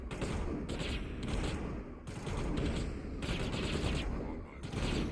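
Sustained automatic gunfire from the Mass Effect video game, a dense continuous fusillade with brief dips, steady and loud throughout, with a voice speaking underneath.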